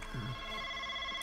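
Phone ringtone from an unknown number sounding during a Hello Neighbor mod gameplay session: steady sustained electronic tones, moderately loud and continuous, with a brief low murmur near the start.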